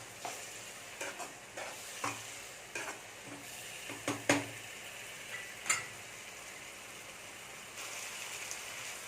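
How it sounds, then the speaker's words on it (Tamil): Ground coconut sautéing in oil in a pan for an egg and chana dal kootu gives a soft, continuous sizzle, broken by scattered clicks and scrapes of a stirring spoon. "கொஞ்ச நேரம் இந்த பச்சை வாசனை போகிற வரைக்கும் இதை வதக்கிடலாம்"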